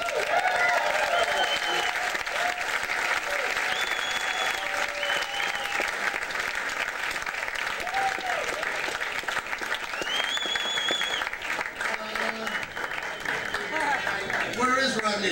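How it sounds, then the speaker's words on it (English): Sustained applause from a large theater audience greets a comedian taking the stage at a tribute show, with dense clapping mixed with cheers and whistles, filling the whole stretch at a steady loud level. "please receive with a warm round of applause"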